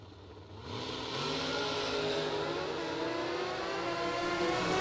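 Drag racing car at a New Year Nationals event launching down the strip, a loud engine roar that builds quickly after a quieter start and holds steady and strong as it accelerates away.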